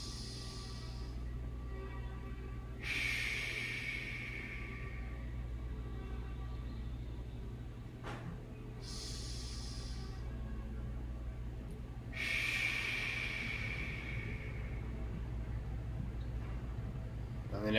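Slow, deep breaths during a chakra and color meditation, two long inhales spaced apart, each a soft airy rush over a low steady hum, fairly close and unhurried.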